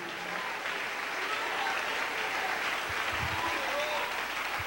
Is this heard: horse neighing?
no